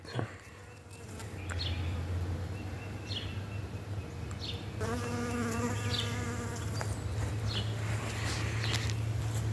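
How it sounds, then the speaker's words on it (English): A bee buzzes around a flowering tree in spring, a steady close drone that rises and falls as it moves, with faint bird chirps now and then in the background. "Bee enjoying it."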